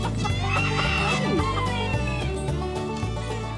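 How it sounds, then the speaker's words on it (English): A pair of Salmon Faverolles bantams, a cockerel and a pullet, cluck and call close by over steady background music. "These are two lovely little Salmon Faverolles bantams, a little pair."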